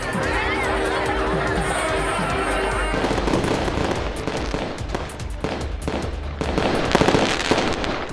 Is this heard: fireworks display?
yes